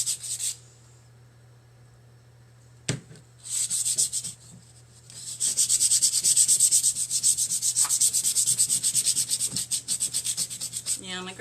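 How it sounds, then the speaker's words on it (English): Hand sanding a wooden home decor piece, including its edges: brief scraping at first, then a long run of quick, rhythmic rasping strokes close to the microphone. "So I'm just sanding it down"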